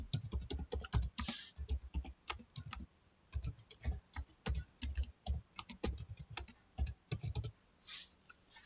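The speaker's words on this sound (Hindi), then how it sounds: "इस तरीके से हमने एक लेटर टाइप कर लिया" Rapid typing of a letter in MS Word on a computer keyboard, with dense, irregular bursts of key clicks and short pauses, close and clear with no talking.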